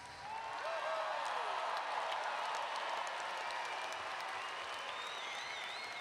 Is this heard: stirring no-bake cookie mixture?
no